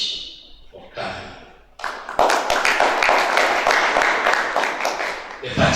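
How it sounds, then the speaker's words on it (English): A crowd applauds at the 13th Inter-University Human Rights Competition hosted by Bishop Stuart University. After a brief spoken lead-in, dense, loud clapping rises and holds steady for several seconds. "Another applause for yourselves."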